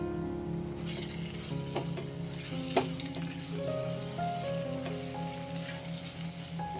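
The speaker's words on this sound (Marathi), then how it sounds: "त्यामध्ये अर्धी वाटी ओला मटार घालून घ्यायचा आणि हे छान परतवून घ्यायचं" Fresh green peas sizzle steadily in hot oil as they are sautéed for aloo matar pulao, a soft continuous crackle with occasional stirring clicks and scrapes, close and even throughout.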